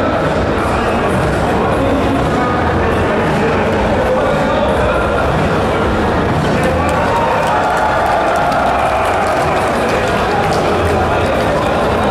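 A large crowd at a Gamescom booth during a live Guild Wars 2 demo, cheering and shouting loudly and continuously, a dense roar of voices that holds throughout.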